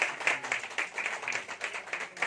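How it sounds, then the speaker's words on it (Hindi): Church congregation clapping for the Lord after a sermon and prayer of thanks, a rhythmic run of fairly steady claps at moderate volume, with no voices over it. "प्रभु के लिए तालियां"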